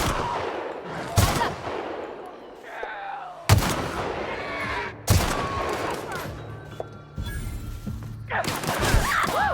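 Gunfire in the sci-fi shooter game The Outer Worlds: repeated sharp shots and bursts, some heavy booming blasts, with ringing and crashing effects between them.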